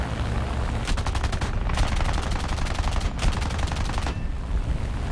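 Rapid bursts of aircraft machine gun fire from a Ki-61-Ib fighter in the game War Thunder, several sustained volleys with a steady rattling rhythm over a constant engine drone, short pauses between bursts.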